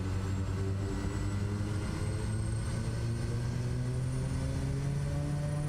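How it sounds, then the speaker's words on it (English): PMDG 737 engines spool up for takeoff in Flight Simulator 2024, a steady simulated jet roar with tones slowly climbing in pitch, loud and continuous without talk. "Throttle's coming up."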